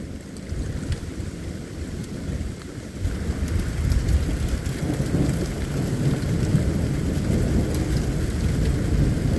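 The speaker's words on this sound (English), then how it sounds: "that's gotta be more than just thunder going on right there" Heavy rain pours steadily while deep thunder rumbles on and on, growing louder and more continuous through a thunderstorm during a tornado outbreak.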